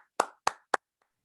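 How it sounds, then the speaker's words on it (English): Three sharp hand claps in a slow, even rhythm at a township committee meeting, close and loud, then a couple of faint soft taps in near silence. "So we're going to applaud now."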